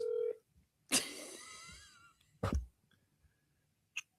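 A telephone is being dialed to call someone, with a short steady keypad tone at the start followed by a burst of broadband rustling and handling noise and a few faint clicks, with no talking.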